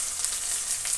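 Brinjal pieces, onion and tomato frying in oil in a pan for gojju, a steady close sizzle with faint stirring scrapes and no voices.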